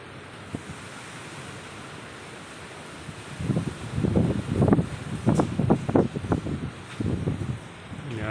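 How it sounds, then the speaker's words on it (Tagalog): Heavy rain lashes down during Typhoon Kristine, a steady broadband roar that swells into loud surging gusts of wind-driven downpour in the second half, with no talk. "Grabing ulan, oh."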